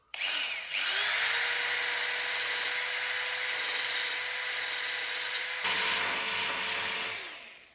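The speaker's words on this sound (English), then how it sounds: "make it a bit more scuff with the finger file. Just lightly go over it, it just leaves a cleaner metal." A finger file belt sander scuffs bare car panel metal during a panel repair, giving a loud, steady high-pitched whine that runs for several seconds before winding down.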